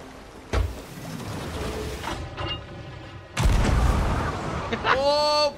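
Cannon shots in the pirate game Sea of Thieves, a couple of deep booming blasts over rumbling game ambience and creaking ship sounds, with a player's voice talking around them.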